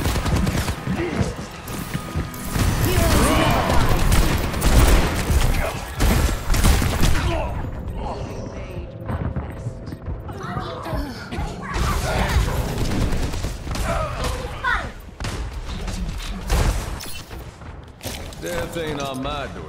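Gunfire rattles almost without pause in an Overwatch 2 match, with dense bursts of shots, crashes and impacts layered over one another and voices talking through the loud battle.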